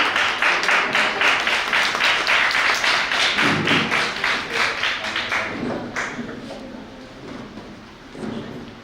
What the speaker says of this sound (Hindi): तो जोरदार तालियों से मैम का स्वागत करिए